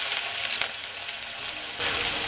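Ginger frying in coconut oil in a clay pot gives a loud, bright, steady sizzle with small crackling pops, surging briefly near the end.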